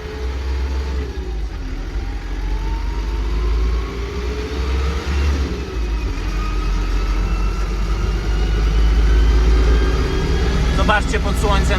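A freshly serviced New Holland TN95NA orchard tractor runs with a steady, even engine drone that holds close and loud throughout, rising slightly in pitch near the end.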